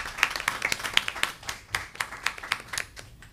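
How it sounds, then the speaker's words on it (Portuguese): Applause in a legislative committee's installation meeting, a small group clapping close by with sharp, uneven claps that gradually thin out. "Uma salva de palmas para as duas."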